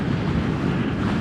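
Steady, roaring wind buffeting the microphone while riding a 2022 Rieju MRT 50 LC 50cc motorcycle into a headwind, a continuous broadband rush with no voices.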